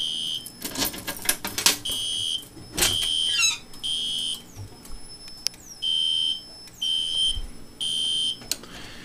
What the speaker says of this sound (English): test my smoke alarm again, because I took the piece of tape off of it